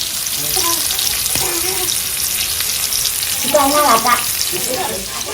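Fish pieces coated in gram flour fry on a hot griddle, giving a loud, steady sizzle throughout with occasional stirring and scraping sounds.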